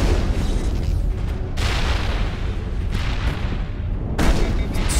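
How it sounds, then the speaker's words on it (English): Grenade blasts in Mass Effect, a sci-fi shooter game, erupt as loud, broadband booms in quick succession, several heavy detonations layered over constant combat noise with no voices. "Just throwing grenades everywhere."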